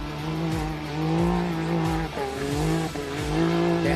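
Side-by-side race vehicles roar around a corner at the Gundy 500, loud steady engine drone with shifting revs and repeated gear changes, close and continuous with no voices.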